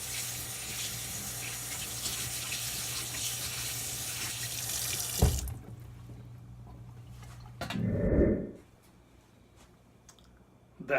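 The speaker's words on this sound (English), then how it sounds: "Let's give this a rinse and see how it looks." Oven pan being rinsed under a running kitchen tap: a steady gush of water for about five seconds, then the flow stops, followed by a short splashing burst and a couple of faint clicks.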